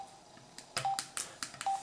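Veopulse S-31 Bluetooth headset volume-plus button beeps: three short clear electronic tones at separate moments, mixed with a few clicky handling and button taps, close and moderately loud with no talk.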